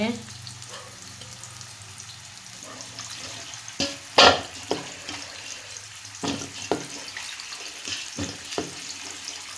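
Thinly sliced onions fry in hot oil with a low, steady sizzle, broken by several sharp clatters and stirring knocks of a utensil against the pan.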